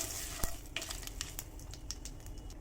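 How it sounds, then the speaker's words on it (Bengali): Cumin seeds and a bay leaf fry in hot oil with a soft, quiet sizzle, punctuated by light scrapes and taps as they are stirred in the pan. "দিয়ে একটু নেড়ে নিচ্ছি"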